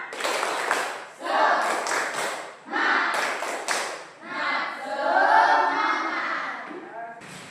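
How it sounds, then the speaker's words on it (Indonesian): A classroom of children does a rhythmic group clap together, several bursts of claps in a patterned beat with some voices chanting along between them. "Tepuk semangat dulu."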